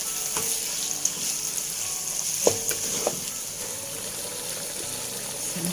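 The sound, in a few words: stir-frying kway teow flat noodles in a pan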